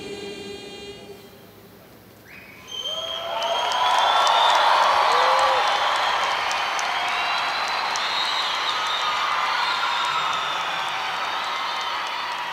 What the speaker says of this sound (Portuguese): Pode aplaudir mais o Senhor.